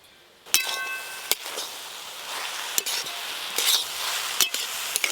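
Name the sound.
stirring water spinach frying in a pan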